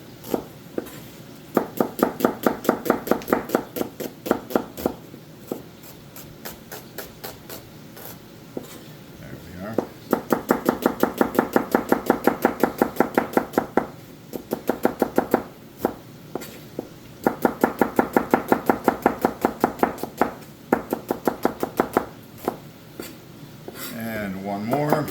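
A knife chops onions on a cutting board for French onion soup in rapid, steady runs of crisp close knocks. The runs are separated by short pauses.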